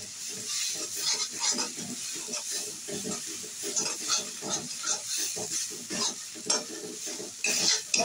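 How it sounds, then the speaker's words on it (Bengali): Spices sizzle and crackle in hot oil while a spoon scrapes and stirs around the pan in a steady, busy rhythm, cooking down a spice masala for a pointed gourd curry. "এই দেখো মশলা কষছি"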